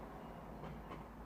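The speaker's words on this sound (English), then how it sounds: "I'm sorry the train is irritating me right now" Faint, steady rumble of a passing train, low and continuous with no distinct clacks, heard alone and quiet in the background.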